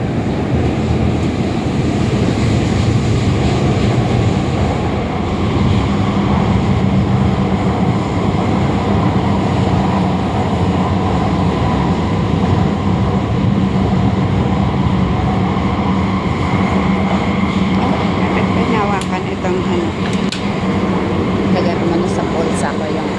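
Urban rail ride in Kuala Lumpur from Sentul Barat toward Titiwangsa station: a continuous loud rumble of the moving carriage with rolling noise, and muffled voices faintly beneath throughout.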